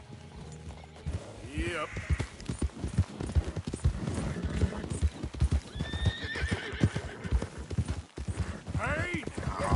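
In Red Dead Redemption 2, a horse whinnies and its hooves clop on the ground in a busy mix of game sounds, with someone speaking briefly over it.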